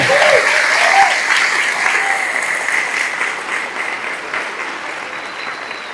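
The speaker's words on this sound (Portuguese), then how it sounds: "Coragem, pode aplaudir, coragem, coragem." Congregation applauding during an evangelical sermon on overcoming fear, grief and loss: dense sustained clapping that fills the room, strongest at the start and slowly thinning over six seconds, with faint voices mixed in.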